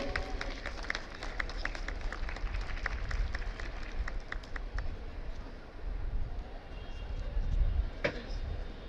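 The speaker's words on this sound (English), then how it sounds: "Huge round of applause, please." An audience claps at a college alumni meet for MBA and PGDM graduates, a moderately distant, continuous patter of many hands that thins out over several seconds, with background murmur and talk.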